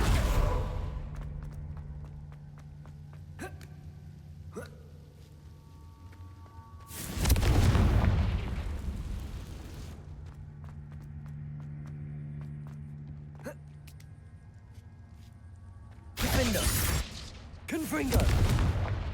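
Confringo blasting spells fired in Hogwarts Legacy, bursting as loud, broad explosions around 7 seconds and again near 16 to 18 seconds, separated by quieter game ambience with low hums and scattered faint footsteps.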